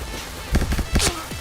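Gunshots in the PointBlank shooter game, a rapid cluster of sharp cracks followed by another burst and a ringing whistle-like tail, with a short voice in the background.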